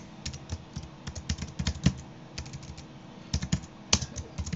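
Typing on a computer keyboard while entering a function in Excel: close, irregular bursts of crisp keystrokes with brief pauses, no voices.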